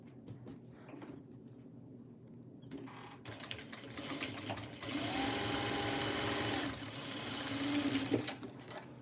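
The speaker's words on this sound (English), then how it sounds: "So now the pink, I'm going to sew this again at that 1-inch seam allowance." A home sewing machine stitches a 1-inch seam allowance in pink quilting fabric, its steady motor whir running close and continuous, rising in intensity during the middle and later stretches, with no talking.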